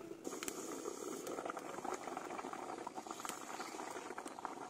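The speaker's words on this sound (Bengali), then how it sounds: "আমরা ঢাকা দিয়ে আলুটাকে সেদ্ধ করে নিচ্ছি" Potatoes simmering in a covered pot, a soft continuous bubbling and faint rattle of the lid, quiet and steady with no one talking.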